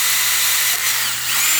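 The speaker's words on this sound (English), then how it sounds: "All I have to do is drill the holes and clean it up" A power drill bores holes in a metal bracket, a loud, continuous high whirring grind with a brief dip in the middle, close to the listener.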